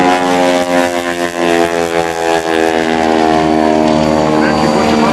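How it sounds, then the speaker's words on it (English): A 450 horsepower aerobatic airplane engine roars at the 2004 NAS Oceana airshow, a loud sustained propeller drone that shifts slowly in pitch as the plane maneuvers. "that 450 horsepower engine is not designed to make it climb"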